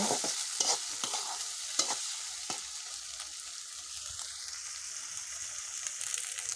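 Chili, onion and garlic sizzle lightly over medium heat as a spatula stirs them around the pan, giving a steady hiss broken by a few sharp scraping strokes.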